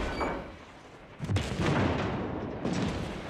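Heavy 406mm battleship guns fire in the naval combat game World of Warships, with booming low blasts that roll into sustained rumbling, one big salvo followed by a second, loud and unaccompanied by talk.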